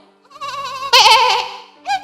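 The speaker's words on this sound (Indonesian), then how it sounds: "Domba suaranya" A sheep bleats in wavering, quavering cries, one long call swelling loud and trembling, then a shorter bleat after a brief pause, close and clear.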